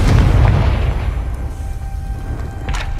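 A Confringo blast spell from Hogwarts Legacy erupts in a loud, rumbling boom that rolls on for seconds, with a sharp crackle near the end.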